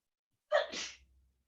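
A single sharp sneeze bursts out after a moment of silence, with a brief breathy tail fading away.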